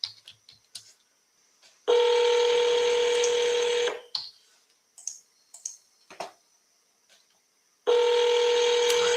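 Telephone dialing tones sound in two loud, sustained bursts of about two seconds each, separated by scattered clicks and small taps, heard close and clear without talk.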